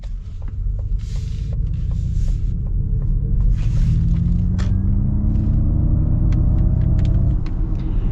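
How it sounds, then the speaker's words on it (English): A 2021 Ford Mustang Mach-E Long Range Premium electric car accelerates with its artificial propulsion sound on, a synthetic tone rising in pitch over a steady low cabin rumble, with a few faint clicks and no talking. "I don't know if you guys can hear that, the sound that it makes. That's your propulsion sound."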